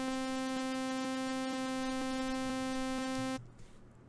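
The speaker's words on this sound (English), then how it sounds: "I've set up a simple MIDI pattern that would be similar to if I were to have a kick drum" A repeating MIDI kick-drum pattern plays on a Spire software synth as a buzzy, sustained tone pulsing on a steady beat about twice per second, then cuts off abruptly into near silence.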